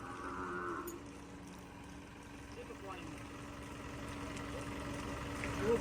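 A Kankrej cow moos in a few drawn-out calls at middle distance over a steady outdoor rumble, with people talking nearby.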